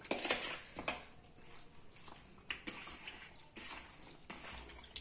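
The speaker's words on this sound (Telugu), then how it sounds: "ఇలా అన్ని పీసులకి మసాలా అంటేట్టుగా బాగా కలుపుకోవాలి" Chicken pieces being mixed with masala by hand for chicken biryani, wet squelching and clinking against a vessel in short irregular bursts, close and fairly quiet.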